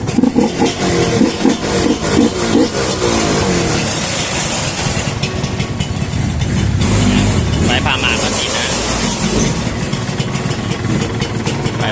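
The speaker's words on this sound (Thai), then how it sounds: "ฟังเสียงเครื่องกันดีกว่า" A factory-original Yamaha TZR150 two-stroke motorcycle runs steadily at close range, its buzzing engine note continuous throughout while someone talks over it.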